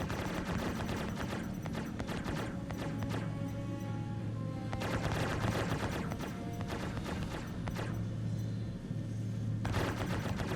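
Ballistic cannon rounds striking a ship in a space combat game, a steady barrage of impacts and rattling fire over a constant engine hum, with bursts of heavier hits at intervals.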